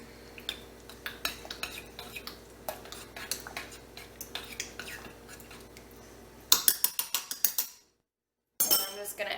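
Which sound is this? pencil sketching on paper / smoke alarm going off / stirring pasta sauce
stirring pasta sauce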